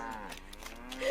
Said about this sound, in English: The mooing.